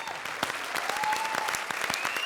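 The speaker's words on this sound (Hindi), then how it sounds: "भाई जोरदार तालियों से अरबाज भाई का स्वागत करें।" Studio audience on a comedy show applauding loudly to welcome a guest, thick continuous clapping with sharp individual claps standing out, close and steady with faint music underneath.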